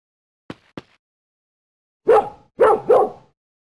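Dog barking in the Xuan-Yuan Sword 3 video game: two short, light yips followed by three louder, fuller barks in quick succession, close and clear with no talk over them.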